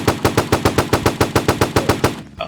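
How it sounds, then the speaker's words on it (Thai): Rapid automatic gunfire in a Roblox GTA-style video game, a steady burst of about fifteen evenly spaced loud shots, close and alone, ending abruptly. "มันยิงเรา มีคนยิงเรา"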